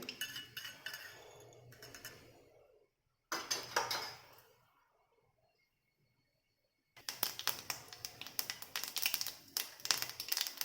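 Mustard seeds spluttering and popping in hot oil in a kadhai while making bitter gourd bhaji, dense crackling bursts in three stretches with silent gaps, close and fairly loud.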